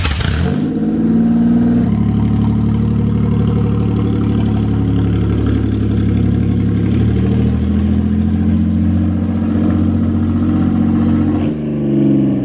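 Engine of a budget drift car revs hard and steadily for about twelve seconds, loud and close, with a rough droning roar that dips near the end; no talking.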